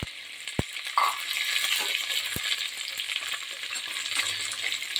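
Chopped onion and curry leaves sizzle and fry steadily in hot oil for a liver gojju, a continuous close hiss with a few sharp clinks of a utensil against the pan.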